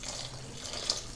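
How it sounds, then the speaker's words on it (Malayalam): Strawberries are washed in a bowl of water with salt and vinegar, giving a soft, steady swish and trickle of water at close range, faint and without talk. "2-3 പ്രാവശ്യം വെള്ളം മാറ്റി നന്നായി കഴുകിയെടുക്കുക."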